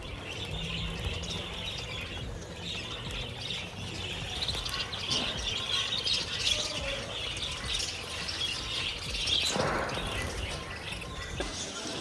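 Birds chirp and call throughout at a pigeon and lovebird farm, a steady busy chorus of tweets and squawks with faint background hiss and an occasional louder burst.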